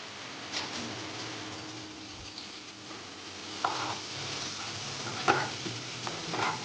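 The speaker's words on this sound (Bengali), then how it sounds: "আর রসুন কুচিটা অ্যাড করে দিচ্ছি তেলের মধ্যে, আর কাঁচা লঙ্কাটা" Chopped garlic and green chilli frying in oil over a low flame, a steady soft sizzle with a few faint clicks and stirring taps throughout, no talking.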